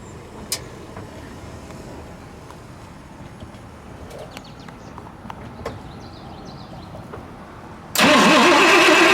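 A 1959 DeSoto Adventurer with a 383 V8 and dual quad carburetors cranks and fires near the end, jumping abruptly to a loud, close engine roar after a long stretch of quiet outdoor ambience with faint clicks.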